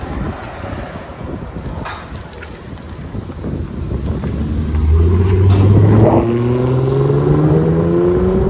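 Toyota Camry 3.0L V6 with a muffler delete or straight pipe, wind buffeting the microphone at first, then a deep exhaust drone swells and rises in pitch as the engine revs, holding loud to the end.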